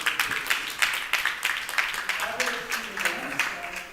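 An audience at a climate security event gives a round of applause for a speaker's introduction, with moderate, slightly uneven claps and voices mixed in.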